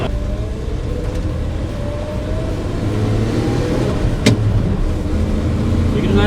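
A 1959 Chevrolet Apache truck cruising at about 50 mph on a rural Missouri highway, giving a steady, close engine and road drone with wind rush and one brief sharp knock near the middle.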